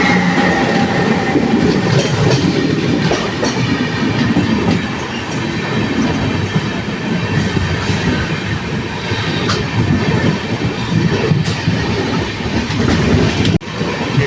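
Solapur–Mumbai train passing on the railway near Thane at dawn, heard from aboard another train: a loud, continuous rumble with clickety-clack wheel noise that holds steady throughout and dips briefly near the end.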